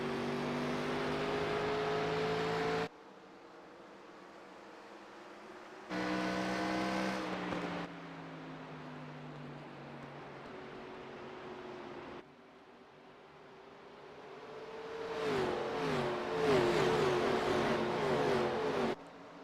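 Race cars at Phoenix Raceway roar past in waves, engine whines rising and falling as the pack sweeps by, fading to a distant drone between passes before a loud cluster closes in near the end.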